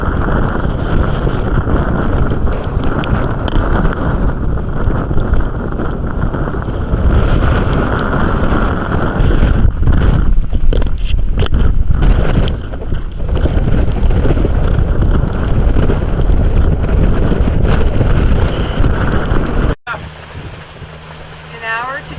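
A sailboat motoring with its sails down near reefs, with steady engine drone and heavy wind buffeting the microphone over sea noise for about twenty seconds, then a brief quieter stretch.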